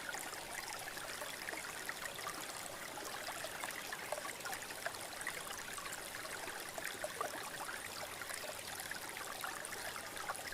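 A river stream flows steadily nearby, a continuous broad rushing wash with small splashing ripples, even and unbroken throughout, no voices.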